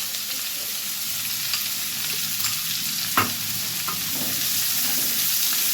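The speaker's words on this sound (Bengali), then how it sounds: "এবার একটু ব্রাউন হওয়া পর্যন্ত ভেজে নেব" Three medium coarsely chopped onions frying in a pan, a loud, even sizzle throughout, broken by occasional spatula scrapes and one sharper knock near the middle. No one speaks.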